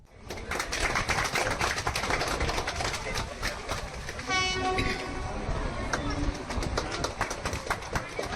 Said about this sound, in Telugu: నీలగిరి మౌంటైన్ రైల్వేగా ప్రసిద్ధి చెందిన ఈ రైలు నూట ఇరవై ఏళ్లుగా సేవలు అందిస్తోంది